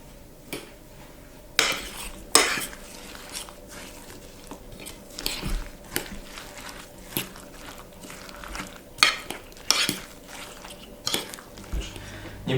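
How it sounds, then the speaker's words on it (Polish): Fruit omelette ingredients are mixed in a bowl, with irregular clinks and scrapes of a utensil against the dish between quieter stirring sounds. "Wszystko mieszamy."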